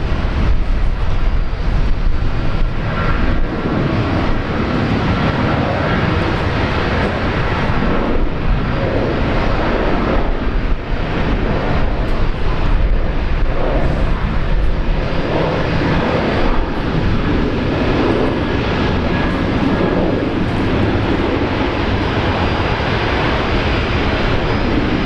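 Velocity Boeing 737 jet at Brisbane Airport, its engines roaring loud and steady with broadband rumble for the whole stretch, no speech over it.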